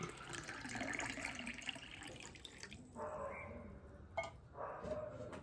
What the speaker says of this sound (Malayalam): ആവശ്യമായിട്ടുള്ള വെള്ളം നമ്മൾ ഇതിൻ്റെ അകത്ത് ഒഴിച്ചു കൊടുക്കുന്നുണ്ട്